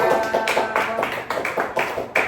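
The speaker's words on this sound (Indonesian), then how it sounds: "kita beri tepuk tangan untuk kalian" Grade six students clapping their hands in a classroom after a presentation, a brisk run of irregular, moderately loud claps lasting a couple of seconds.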